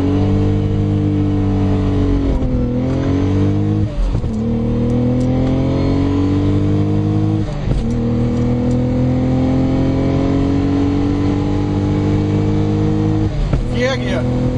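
A Lotus Omega with a supercharged 3.6 engine revs hard under acceleration, its loud, close drone rising in pitch through each gear and dipping at every shift, with voices talking inside the car.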